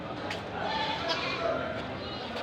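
Goats in a pen give several faint bleats at scattered moments over steady background noise, with a person talking nearby.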